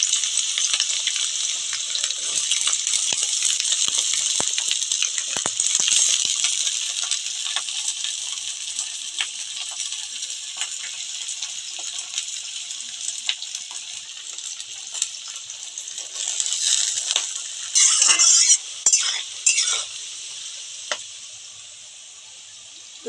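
Carrots and beans stir-fry in a pan, a steady bright sizzle of frying with occasional clinks and scraping of a spatula against metal, growing busier near the end before tapering off quietly.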